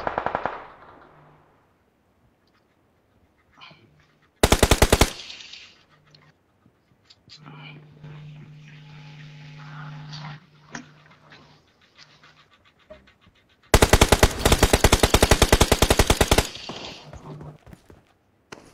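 In PUBG Mobile, two loud bursts of rapid automatic gunfire crack out close by, with a quieter stretch of soft rustling and faint murmuring between them.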